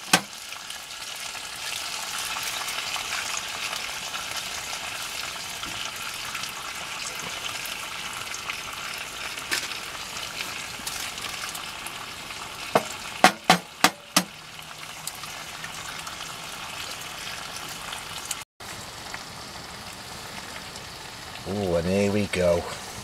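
Mushrooms and bacon frying in a pan on an Outbacker stove inside a lavvu tent, a steady close sizzle throughout with a few sharp knocks near the end and someone talking over it.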